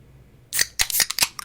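A drink can is cracked open at a desk, a sharp metallic click and hiss followed by several quick crackling fizzes, close and brief, with no talking.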